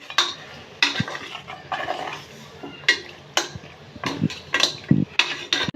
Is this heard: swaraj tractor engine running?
no